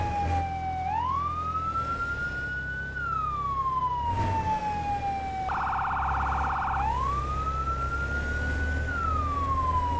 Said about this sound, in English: You hear the siren? I can hear the siren